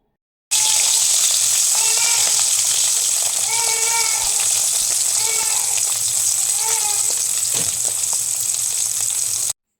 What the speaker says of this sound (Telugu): ఇప్పుడు ఈ బోత్ సైడ్స్ ఫ్రై అయిపోయాయండి